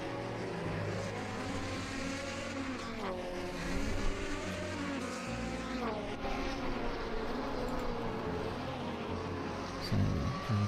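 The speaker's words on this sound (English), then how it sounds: "So drivers just going around for their final checks, their final warm-up laps" Several 1950s Grand Prix race cars in a racing game circulate on warm-up laps, engines droning steadily with rising and falling harmonic whines as cars pass, a continuous layered mechanical roar with faint commentary underneath.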